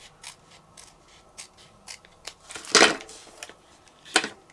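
Scissors snip along the edge of a paper Post-it note cover, a series of short crisp cuts with one louder, longer slice in the middle and a sharp final snip, close and alone.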